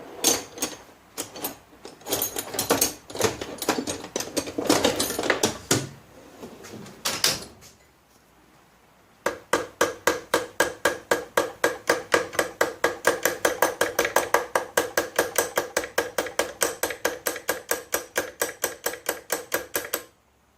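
Rapid, evenly spaced metallic tapping on the carburetor of a Honda EM650 generator to free a stuck float, a long steady series of sharp knocks following a few heavier clunks and shuffling handling noises.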